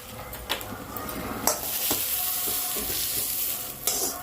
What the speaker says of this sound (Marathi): मंडळी आपला कांदा फ्राय झालेला आहे, तर आपण आता तो काढून घेऊया